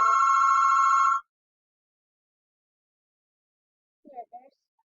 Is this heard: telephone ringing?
yes